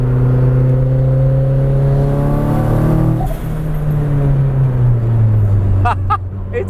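A 1970 Datsun 240Z with a swapped SR20DET engine revs hard and loud up close, the pitch climbing steadily before easing off, with faint brief voices near the end.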